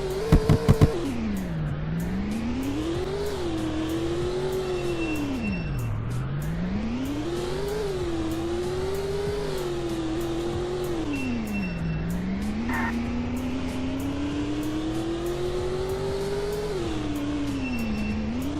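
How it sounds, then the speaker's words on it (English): The engine of a 1998 Ford F-150 Lightning pickup drives in a Roblox video game, a loud, continuous engine drone rising and falling in pitch through repeated accelerations and gear shifts, with brief clicks at the start. "The 1998 Ford F-150 Lightning,"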